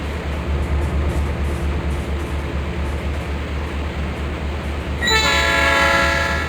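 A train horn in the video game Trainz blares suddenly after several seconds of steady low rumbling, sounding loud and close with bright sustained tones.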